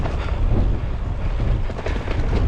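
Wind buffeting a microphone while cycling along a flat, open, quiet road, a loud continuous low rumble with gusty roaring and no voices.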